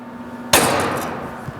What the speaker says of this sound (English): use a scratch awl to put a small divot